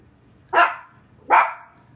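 A dog gives two sharp, loud barks close by, evenly spaced less than a second apart, with a quiet room behind them.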